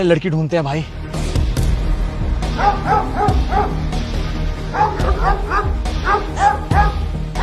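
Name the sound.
dog barking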